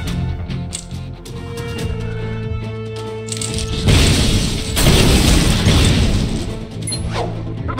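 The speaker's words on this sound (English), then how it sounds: "Repulsor blast! Slam!" Heavy blasts and slamming impacts from a Marvel Puzzle Quest match-3 battle, with dense booming crashes swelling loud in the middle over layered game music and effects.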